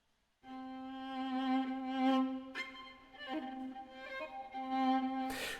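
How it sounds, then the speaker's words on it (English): Solo viola improvisation from the Untamed sample series by Westwood, a sustained bowed line holding one low pitch with rich overtones and a few brief slides and bow changes, fairly quiet and alone with no talking. "from the Untamed series from Westwood, I do have the solo viola"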